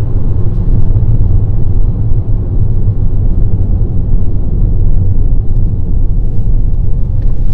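A Haval H6 SUV at full throttle up to about 5200 rpm, heard from inside the cabin as a loud, steady low engine and road rumble that stays constant throughout.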